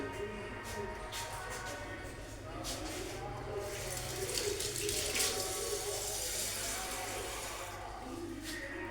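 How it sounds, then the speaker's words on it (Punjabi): A glass of water runs and splashes steadily into a pot of kadhi for several seconds, a continuous pouring sound with some clatter and faint background voices. "ਇੱਕ ਗਲਾਸ ਪਾਣੀ ਦਾ ਆਪਾਂ ਜਿਹੜਾ ਇਹਦੇ ਵਿੱਚ ਹੋਰ ਐਡ ਕਰ ਲਿਆ"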